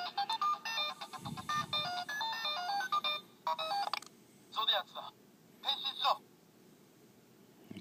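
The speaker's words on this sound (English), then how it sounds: "the henshin noise ringtone, and get a random phone call" Electronic henshin ringtone melody from a Kamen Rider Fourze DX NS Magphone toy, bright beeping tones in several short bursts, faint and separated by brief gaps, with a little speech mixed in.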